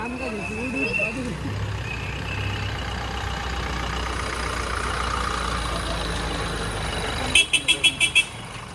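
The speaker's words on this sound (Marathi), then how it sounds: "दशरथांची गाडी आलेली आहे" Vehicle pulling up at an annual village fair in rural Konkan, its engine and road noise steady under crowd chatter and speech, then a burst of five short, loud horn toots near the end.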